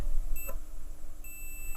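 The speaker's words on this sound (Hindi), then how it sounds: "ये देखो बीप हो रहा है" A multimeter beeps during a continuity test on a DIY home automation light circuit: two short, clear electronic beeps, about a second apart, over a steady background hum.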